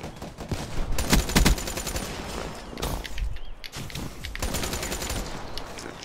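Rapid bursts of automatic gunfire and scattered shots from a Black Ops 3 multiplayer match, loud and dense with sharp repeated cracks throughout, some footsteps in between.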